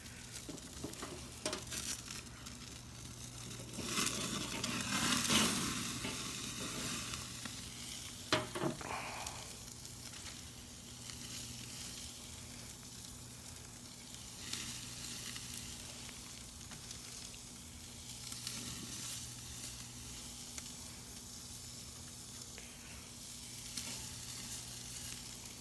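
Steak frying in butter sizzles steadily for a long stretch at low level, with occasional louder crackles and brief clatter near the start.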